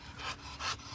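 An American Bully dog pants in the heat, quick close breaths in two louder bursts over one second, with no talking.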